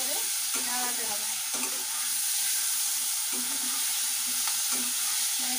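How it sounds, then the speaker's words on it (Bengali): A spice masala is stirred and sautéed in a pan on an induction cooktop, giving a continuous close sizzle. Periodic scraping strokes from the stirring run through it, with no speech. "তো এবারে এটাকে ভালো করে নাড়াতে হবে"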